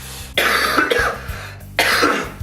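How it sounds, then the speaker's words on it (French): Two harsh coughs, close and loud, with a pause between them over a faint low background hum. "J'ai la toux."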